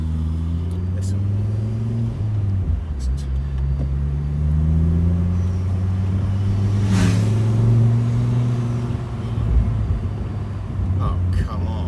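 Performance car engine on the road, a steady low drone with rising and falling harmonic tones as it accelerates and eases off, heard loud and close from inside the cabin.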